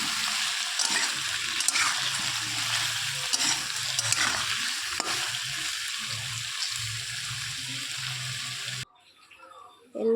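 Potato pieces and green banana sizzle steadily in a hot pan while being stirred, a dense hissing fry with occasional scrapes, loud and close, cutting off abruptly near the end.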